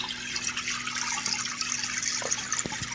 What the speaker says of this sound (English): So see how the water is coming out of that pump now?